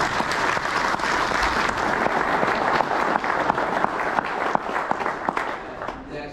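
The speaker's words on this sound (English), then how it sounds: "I think she should have one more round of applause." A luncheon audience at a Pro Football Hall of Fame club meeting breaks into sustained applause, a full, dense roomful of clapping with some sharper nearby claps that carries steadily before tapering off at the very end.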